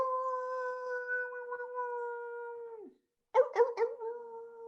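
A person imitating a wolf howl, a long steady sustained tone that falls away, followed after a brief silence by a few yipping, wavering barks and a shorter howl.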